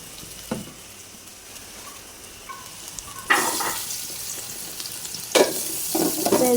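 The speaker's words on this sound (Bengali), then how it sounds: "পটলটাও বসিয়ে দিচ্ছি আগে পটলটাকে একটু ভেজে নেব" Pointed gourd (potol) frying in a pan: a low background sizzle that flares into louder hissing bursts as the pieces are stirred, with no talk.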